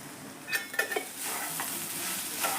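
Kanda poha, flattened rice with onion, turmeric, salt and sugar, is sautéed in a pan with a few quick scraping stirs near the start, followed by a steady soft sizzle.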